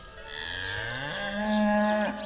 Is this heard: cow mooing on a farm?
yes